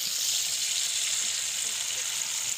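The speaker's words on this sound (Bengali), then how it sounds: "এখন তেলে লবণে ছ্যাদ করে উঠবে।" Salt hitting hot oil in a pan while fish cooks, giving a steady, close hiss of frying that holds evenly throughout with no pauses.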